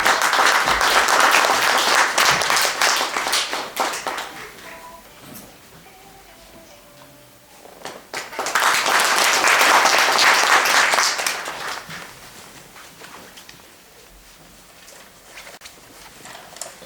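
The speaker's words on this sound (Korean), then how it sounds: "그럼 뜨거운 박수로 환영해 주시기 바랍니다." Warm applause from the audience at the 13th anniversary ceremony and lecture of the Busan federation of the Chunghyo-ye practice movement, two loud sustained bursts of clapping separated by a quieter lull.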